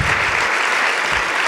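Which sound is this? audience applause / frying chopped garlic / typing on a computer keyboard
audience applause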